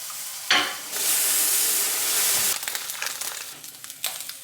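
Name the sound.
bacon frying in a pan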